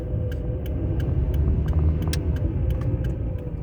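A car making a worrying noise while driving on a road trip, with a steady low engine and road rumble throughout and faint ticking clicks recurring at regular intervals above it.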